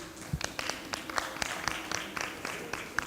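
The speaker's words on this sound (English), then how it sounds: "Applause for Caroline." Scattered applause from a summit audience greeting someone speaker on agribusiness, sparse individual claps rather than a full ovation, moderately distant and fairly quiet over room noise.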